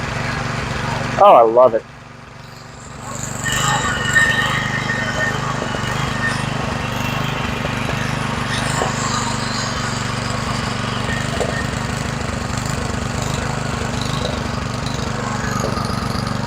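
A McLane edger's small engine running after 19 years in warehouse storage: a steady, loud rattling drone that starts after a brief burst near the beginning and continues unbroken, with a person speaking briefly over it.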